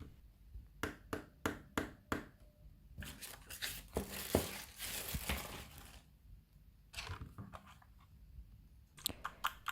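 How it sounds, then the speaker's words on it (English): Keycaps being pried off a VortexSeries VX5 RGB 60% mechanical gaming keyboard: a run of sharp plastic clicks and snaps, then a dense stretch of scraping and rattling, then more quick clicks at the end. Close and clear, with no talking. "Here I am just taking off several keycaps on the keyboard so that I can access the inner casing"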